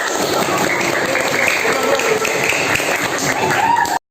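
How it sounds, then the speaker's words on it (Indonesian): An audience claps after a group presentation at a teacher-training session, a steady, fairly loud run of applause that stops abruptly at the end. "Kasih tepuk tangan."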